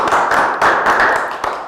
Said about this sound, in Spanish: Démosle un fuertísimo aplauso a la compañera.